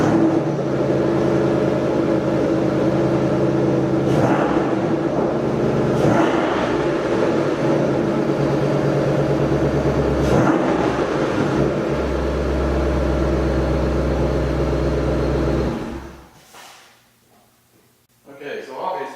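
The small engine of an HPI Savage hybrid Revo RC truck runs loudly and steadily with a buzzing, revving drone for about fifteen seconds, then cuts out, leaving near quiet.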